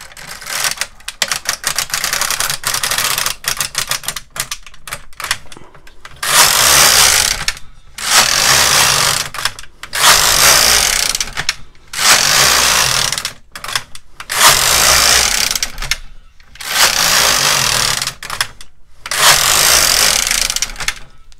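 A Brother KX350 or LK150 knitting machine knits rows, each pass a loud rasping sweep of the carriage lasting a couple of seconds, repeated steadily with brief pauses between.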